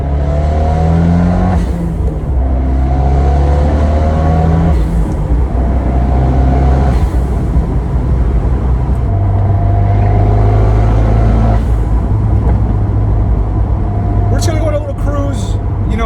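A turbocharged Fiat 124 Spider Abarth with a 1446 engine and phase 3 tune drones loudly from inside the cabin, its engine note rising and falling through gear changes with a sharp burst near the end.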